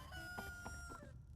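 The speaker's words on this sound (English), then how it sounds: "Well, if you haven't heard the roosters crow" A rooster crows in a video game, a faint, distant call heard alone for about a second and a half against a low background hum.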